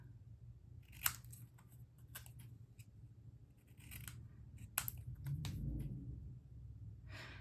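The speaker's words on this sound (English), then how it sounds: "I'm just going to snip this in a box" Scissors snipping cardstock around a stamped image for handmade cards, crisp close cuts arriving one at a time at irregular intervals over faint background noise.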